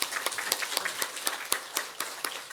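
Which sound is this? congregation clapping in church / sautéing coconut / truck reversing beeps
congregation clapping in church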